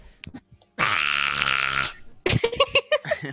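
A single long, loud burp rumbles close up for about a second, with brief voice sounds before it and casual talking right after.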